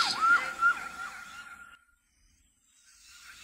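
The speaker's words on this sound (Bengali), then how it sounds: "ডানে কি অ্যাম্বুলেন্স যাচ্ছে" An ambulance siren wails past, its rising and falling tone loud at first, then fading away into near silence as the vehicle moves off.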